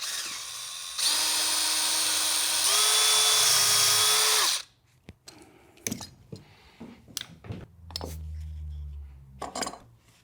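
A drill bores a hole through a guitar headstock during a repair: a loud, steady whine runs for about three and a half seconds, dips in pitch partway, then stops. Scattered clicks, clatter and handling knocks follow.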